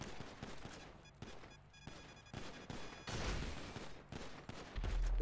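Gunfire rattles in GTA 5 during a bikes-versus-tanks fight, sharp rapid bursts of shots in uneven volleys, fairly faint at first and growing heavier with a deep rumble toward the end.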